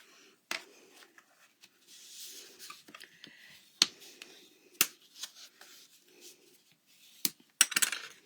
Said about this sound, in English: I am just going to make sure it's going to fold flat by creasing those edges just one more time